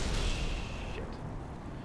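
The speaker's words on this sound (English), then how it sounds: "It crushed itself in a spectacular explosion." A spacecraft in Kerbal Space Program blows apart in a rumbling explosion, starting with a loud burst and decaying into a broad, noisy roar over a couple of seconds.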